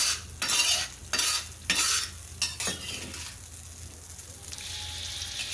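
A chili and garlic spice paste for Indonesian opor ayam heats in a pan, with several bursts of scraping and clattering stirring over a low sizzle that settles into a quieter steady hiss, close by and without speech.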